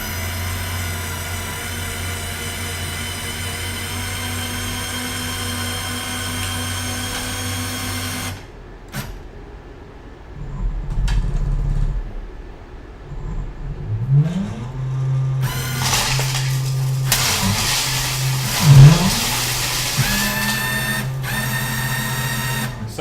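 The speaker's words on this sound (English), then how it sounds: "Once we get to the excavation zone, we will have the drum hit the ground first, which I will demo now" A university-built excavation robot's rotating drum strikes the ground and churns through sand, a steady mechanical motor whine giving way to rougher grinding and scraping bursts of moderate loudness, with no talking.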